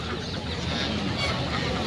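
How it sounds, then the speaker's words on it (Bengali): A native rooster clucks in short, low bursts amid a noisy outdoor market background, fairly faint and brief. "দেশি মোরগ"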